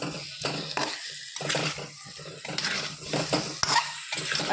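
Chopped tomatoes added to potatoes frying in a pan for a Bengali egg curry with new potatoes and peas, giving a steady close sizzle with repeated stirring scrapes and clinks of utensil on pan.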